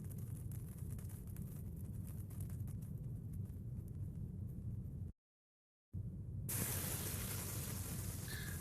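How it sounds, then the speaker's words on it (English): LG refrigerator hissing as melted frost drips onto the defrost heater and evaporates: a steady, faint broadband hiss that briefly cuts out, then resumes with a brighter, sharper sizzle. "It makes that hissing noise as the water's being evaporated."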